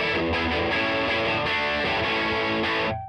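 Electric guitar played through a JHS Colour Box V2 pedal into a distorted studio amp tone, a dense sustained crunchy chord texture that rings steadily before cutting off abruptly at the end.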